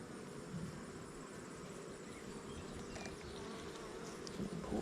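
Honey bees swarm around an open hive box with frames of honey and brood chambers, producing a dense continuous buzz that stays steady and close throughout, with no voices.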